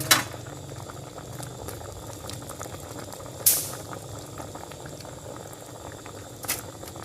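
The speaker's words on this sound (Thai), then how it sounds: "เดือดได้ที่แล้วนะคะ" Tom yum chicken feet soup with coconut milk bubbling at a steady boil in a pot, a continuous low gurgle with a few sharp clinks or taps standing out, heard alone without talk.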